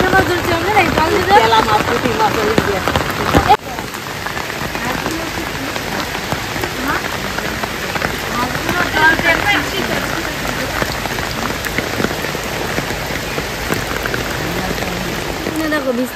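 A heavy monsoon downpour hammers down in a dense, loud, unbroken hiss of rain striking surfaces, steady throughout with faint voices partly buried beneath it.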